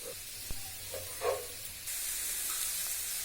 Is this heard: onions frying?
yes